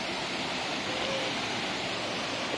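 The Tombador waterfall at Nobres, Mato Grosso, roars as a dense, constant rush of falling water, loud and close, with no break or change.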